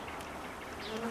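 Honeybees buzzing at an urban beehive during a Varroa mite treatment, a continuous faint insect hum with a few individual bees droning closer as they pass.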